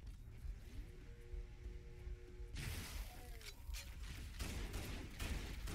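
Quiet video game gunfire from Halo CE, a run of faint clattering shots and mechanical clicks after a steady hum, with no clear talk over it.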